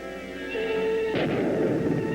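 A hand grenade explodes in an old film scene, a sudden boom about halfway through that gives way to a rumbling, crackling blast and debris noise over a thin musical tone.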